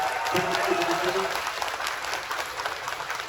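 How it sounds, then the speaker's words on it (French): Audience applause at a speech event in Paris, a steady wash of clapping throughout, with a brief voice cutting in near the start. "vous pouvez lui faire un tonnerre d'applaudissements"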